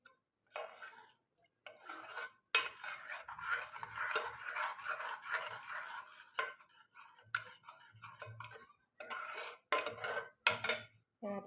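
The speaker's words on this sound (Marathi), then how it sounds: "आता ह्याच्यामध्ये मी थोडं पाणी टाकून घेते" Water is added to cooked dal and stirred in a pot, giving a series of scraping, clinking spoon-against-metal strokes in short bursts separated by brief pauses, close and moderately quiet.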